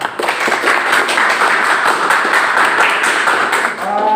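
Loud, dense clapping from a group fills the whole stretch, steady and close, with a brief dip near the end.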